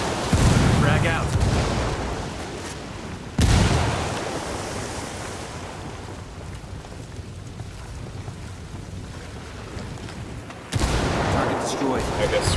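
In Ghost Recon Wildlands, frag grenades explode with sudden, loud bursts that trail off into long, rumbling decay, and a few of them land seconds apart over an ongoing din of combat.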